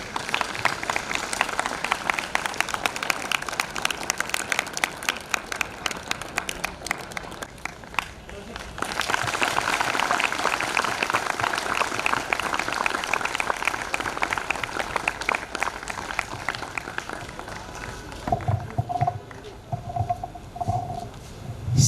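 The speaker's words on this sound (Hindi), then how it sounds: "थोड़ा सा बैठ के उनका तालियों के साथ स्वागत करेंगे" Audience applause and clapping from a seated crowd welcoming a doctor at an International Day of Yoga event at Central Jail in Indore, a dense sustained wash of claps with a brief dip midway and a voice speaking near the end.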